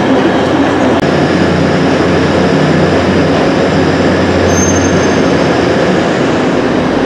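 A Grand Central passenger train pulls out of a station, giving a loud continuous rumble of wheels and rolling stock with a faint high squeal near the end, and no voices.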